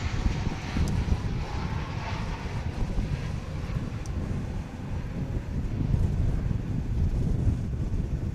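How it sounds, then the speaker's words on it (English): An American Airlines Boeing 737-800 landing at Dallas/Fort Worth Airport makes a steady, broad engine roar that is fairly loud and mixed with wind buffeting on the microphone. "Here comes American Flight 2467, 737-800 from Des Moines"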